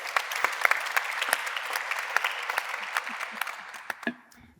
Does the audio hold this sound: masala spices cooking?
no